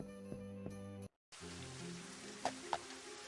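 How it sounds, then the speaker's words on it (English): Steady rain falling in a rainy tropical region of the video game Elder Scrolls 2, a constant hiss of drops after a brief cut, with a couple of faint splashes over soft game music. "Tropical region where it rains all the time."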